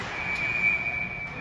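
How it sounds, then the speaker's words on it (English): Referee's whistle at an ice hockey game involving the North Stars: one steady, piercing blast held for over a second over a broad crowd and arena hum. "the referee blows the whistle"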